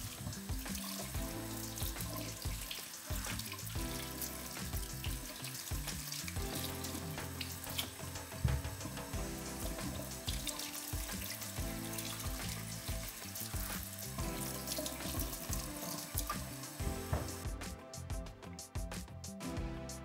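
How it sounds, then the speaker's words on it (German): Tomatoes being rinsed under a running kitchen tap, a steady broad rush of water into a sink with shifting splashes as the fruit is handled, continuous and close, with no talking. "Als erstes werde ich das Grüne von den Tomaten entfernen und die Tomaten gut waschen."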